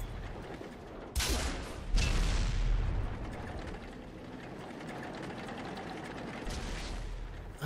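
A tank comes under gunfire in World of Tanks: two sharp close hits land about a second apart, then a low steady engine rumble carries on, with another fainter hit near the end.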